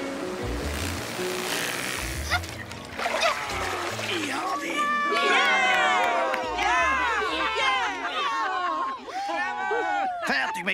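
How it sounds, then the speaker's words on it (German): Loud crowd cheering and shouting for a captain, many excited overlapping voices in a busy, splashy scene near water, continuing strongly for most of the stretch. "Wir jubeln für dich, Kapitän."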